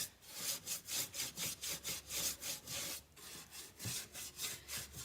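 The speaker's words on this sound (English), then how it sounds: "It's like I'm scrubbing, basically I am, and it kind of, when you put it on this way, it kind of buffs it for you as well." A pad scrubs wax onto a wooden chest in quick back-and-forth strokes, a rhythmic series of close, soft rasping swishes with a brief pause midway.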